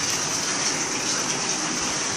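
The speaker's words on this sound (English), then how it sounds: "now we're starting to fill up the tub" Water gushes steadily into a bathtub as it fills, a constant close hiss and splash with no break or other sound.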